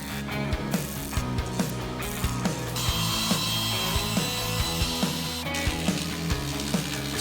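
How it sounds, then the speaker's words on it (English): A machine saw cuts rough timber being processed into a large tabletop; a steady high whine of the blade sets in after about three seconds and runs on over repeated knocking and clattering of wood. "We are using the machine saw to cut them in a precise manner."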